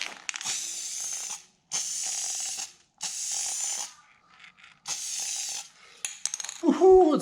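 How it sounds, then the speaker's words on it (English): A spray can lays clear coat onto a Nissan 300ZX Z32 car light in four bursts of loud, steady hiss with short pauses between them, ending in clattering handling noises and a brief voice. "Let's go ahead and spray out this light."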